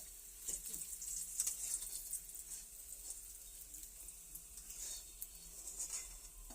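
Slices of bitter gourd fry in hot oil with a steady, soft sizzling hiss, fairly quiet and continuous throughout, with a few faint stirring clicks.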